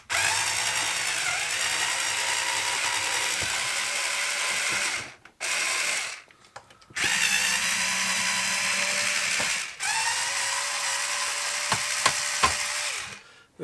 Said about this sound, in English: this is just going to be a case of undoing every screw in sight until it actually comes apart